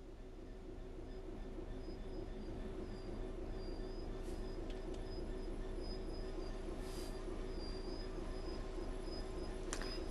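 Train rumbling steadily along the track in Train Sim World 3, a continuous close low roar with faint wheel squeal and brief high screeches, no talk.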